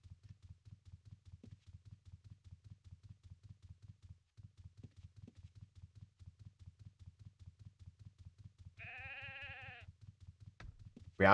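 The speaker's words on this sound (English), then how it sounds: "The moment we step near the sheep, it found a sheep, found a sheep, it found a sheep." A sheep bleats once, a short clear wavering call near the end of the game Ultima Online Outlands, rising above a steady rhythmic low pulsing of background game sound and footsteps.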